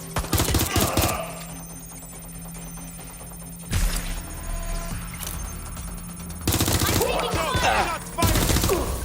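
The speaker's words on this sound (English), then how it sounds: "Shots fired!" Bursts of automatic gunfire and shots from Watch Dogs: Legion, loud and close in three clustered volleys with sustained game background noise between them.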